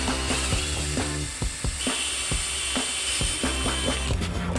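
A drill grinds through aluminum plate in a steady, rough whir, with a rapid series of sharp ticks and clunks repeating throughout, close and loud.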